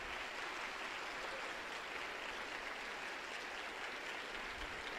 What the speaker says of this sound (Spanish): Vamos a darle un aplauso a la Santísima Trinidad